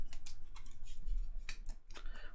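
Playing cards being shuffled for a DC deck-building card game, a series of quick, close riffling and snapping bursts with brief pauses between them, alone without talk.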